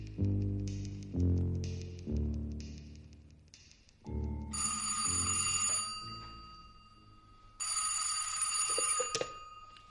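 An old telephone bell rings in two loud, rattling bursts, following a short run of soft musical tones.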